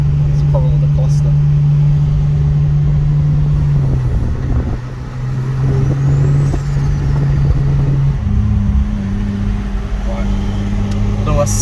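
A Mazda RX-7 FC turbo, left sitting for 12 years, drones loudly from inside the car as it accelerates, its steady engine tone stepping up in pitch twice during the pull.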